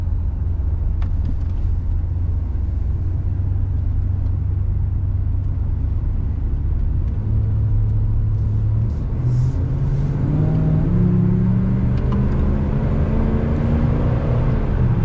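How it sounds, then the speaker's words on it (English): A 1990 Chevrolet 1500 454 SS pickup's V8 engine rumbles low, then climbs in pitch as it accelerates through a roundabout, with road and wind noise underneath and no voices. "get some acceleration one more time"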